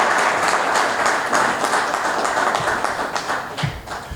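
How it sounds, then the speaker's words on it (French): An audience at a ministerial address to a transport resilience-plan workshop applauds steadily, with dense, even clapping close by that tapers slightly toward the end. "je pense que vous pouvez vous applaudir"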